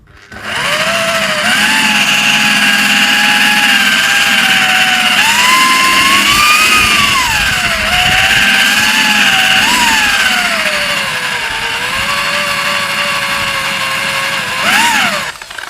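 A car polishing machine buffs scratches out of paintwork, a loud, steady whine close by with pitch that rises and dips as pressure changes, running almost without pause.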